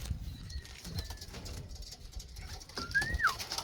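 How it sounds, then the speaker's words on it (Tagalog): Backyard pigeons heard close, with low soft coos and a brief flutter of wings, followed by a thin rising chirp over a faint outdoor background. "Meron tayong mga kalapati."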